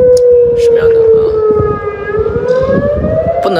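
A civil defense air raid siren sounds during a Beijing test on the morning of September 21, a loud sustained wail that slowly dips and rises in pitch, with faint background noise.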